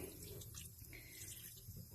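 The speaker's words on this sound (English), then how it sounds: "turn my water on low, and I'm going to rinse this off here just a little bit" A sink tap runs on low as an oil-pastel sugar skull painting on paper is rinsed, giving a faint, steady trickle and splash of water close by with no talking.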